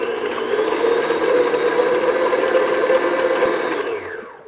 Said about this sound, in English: And then I'm just going to beat it until it's nice and smooth.